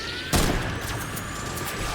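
A sharp burst of automatic gunfire cracks out once in Fortnite Battle Royale, followed by a steady rumbling game soundscape with faint scattered pops.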